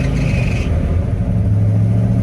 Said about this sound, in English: I hit a little belt whine there